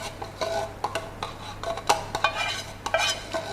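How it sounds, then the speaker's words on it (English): A spoon scraping the last condensed milk from a 370-gram can for a Milo fudge boba drink, a series of short metallic scrapes and knocks in an irregular rhythm, close and alone over a faint hum. "So scrape everything out of your can just to make sure you don't waste anything here."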